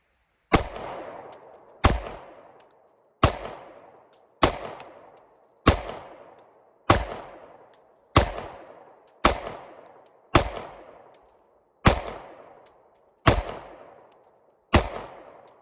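A Sig P365 pistol, loaded with hollow points, fires twelve shots downrange at a steady pace about one second apart. Each report is sharp and loud with a short decaying tail, and nobody speaks.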